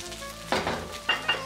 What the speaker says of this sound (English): After adding hot sauce, give another quick stir on high.